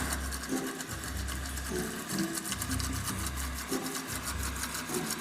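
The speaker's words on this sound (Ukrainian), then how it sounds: "І далі збиваємо все до густоти." An electric blender whirs steadily up close, its motor pulsing in a regular rhythm as it whips a thick aioli sauce with lemon juice, with no talking.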